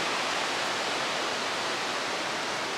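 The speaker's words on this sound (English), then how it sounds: "Miners Creek flowing just in the background." Miners Creek rushing beside a trailside campsite on the Pacific Crest Trail, a steady broadband wash of flowing water, close and continuous with no voices.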